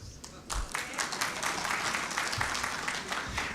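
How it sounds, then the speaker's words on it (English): Audience at a business summit clapping, scattered claps that build into steady applause from a moderately sized crowd, heard at a distance with a voice now and then. "there was more clapping last time than now."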